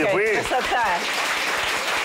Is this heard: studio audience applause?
yes